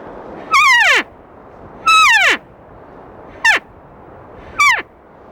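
Elk mews blown on a handheld game call: four loud, close, descending squealing notes, two longer followed by two shorter, separated by pauses with only faint background between them.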